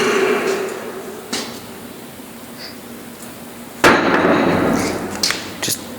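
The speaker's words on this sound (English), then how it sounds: "Just being in here alone and hearing a bang from one of these doors." A heavy door in the old Idaho state penitentiary bangs shut with one sharp, loud, close slam, followed by a few smaller knocks against a quiet, hollow room background.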